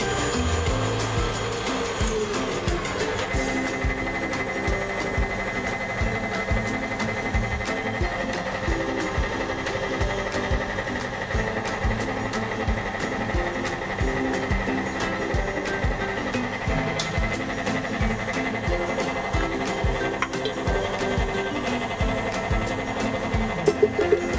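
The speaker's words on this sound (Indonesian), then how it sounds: "Sambil mengocok cream cheese ini, kita akan perlahan menambahkan whipping cream, dan kita lanjutkan mengocok hingga dia mengembang" Electric mixer whirs steadily and continuously, beating cream cheese as whipping cream is slowly added while baking croissants, a constant mechanical drone close by with no talk.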